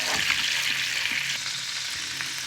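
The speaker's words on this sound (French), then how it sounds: "Voilà, donc la sauce cuit." Mushroom cooking juices simmer into a sauce in a frying pan for steak with green-peppercorn cream, a continuous close sizzle and bubbling broken by a few light stirring clicks, with no speech.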